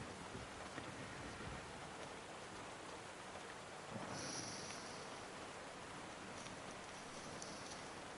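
Steady rain hisses in the survival video game DayZ, a dense continuous wash of falling drops with no voices.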